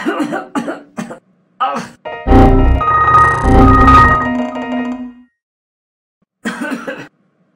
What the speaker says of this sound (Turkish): Hala da öksürüyorum